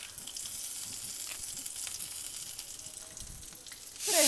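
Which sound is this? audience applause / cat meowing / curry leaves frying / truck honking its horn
curry leaves frying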